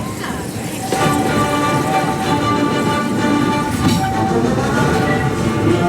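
The Walt Disney World Railroad steam train rolls along in the evening with a continuous rumble, rattle and wheel clatter. It starts after a short, quieter lead-in, holds at a loud, steady level, and a few squeals cut through.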